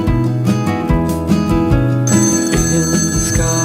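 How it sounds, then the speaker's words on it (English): A telephone rings in repeated electronic bursts with a regular rhythm, loud and close, with a steady tone layered in partway through. "phone rang."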